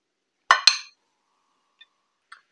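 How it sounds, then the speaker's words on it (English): A metal spoon clinks twice in quick succession against a dish while scooping tomato bruschetta onto crostini, followed by two faint light taps in otherwise quiet surroundings. "Now spoon a little of the tomato bruschetta onto each crostini."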